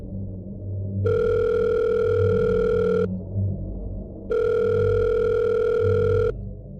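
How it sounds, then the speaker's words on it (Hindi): A hotel room telephone rings twice, each steady electronic tone lasting about two seconds, loud and close over faint background rumble of a storm outside at night. "एक रूम के गेस्ट ने कॉल किया।"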